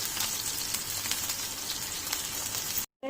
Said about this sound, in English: And fry them on a medium flame,